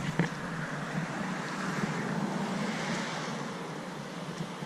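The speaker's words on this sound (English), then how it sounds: "This is the Connecticut River." The Connecticut River flows beside the wooden Cornish-Windsor covered bridge in Cornish, a steady broadband wash of moving water with a wind-like rush, continuous and even throughout with no speech.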